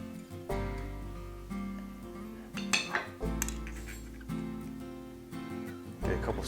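A spoon clinks and scrapes against a glass fermenting jar of pico de gallo as the weight is scooped out, with several distinct metallic knocks and rattles close up.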